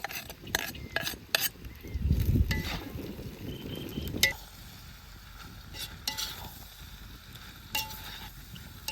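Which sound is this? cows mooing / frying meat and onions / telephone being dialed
frying meat and onions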